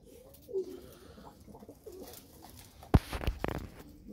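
Frillback pigeons give soft, low cooing calls close by, with scattered rustling and a few sharper bursts of movement partway through.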